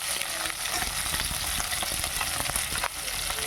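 Onions sizzle and crackle in a hot pan, a dense steady frying hiss with scattered pops and a few stirring scrapes, close and alone without speech.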